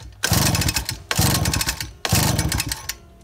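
A 2002 Suzuki LT50 QuadMaster engine with a machined high-compression head is pull-cranked for a compression test, three loud rattling chugging bursts in quick succession with short gaps between.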